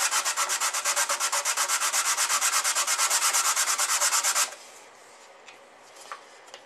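Hand sanding along the side of a small wooden box, a steady rhythmic scratch of sandpaper in quick back-and-forth strokes, close and loud for about four seconds, then stopping into near silence.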